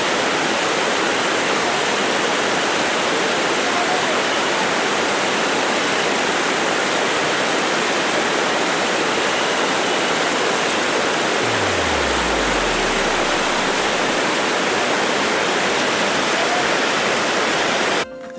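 Kotthapalli waterfalls near Araku rush with a loud, dense, unbroken roar of falling water that fills the whole clip at close range, with no talk.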